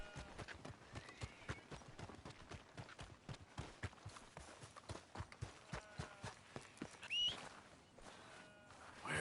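Horse hooves clop at a steady walking rhythm in Red Dead Redemption II, close and fairly quiet, with a faint whistle partway through.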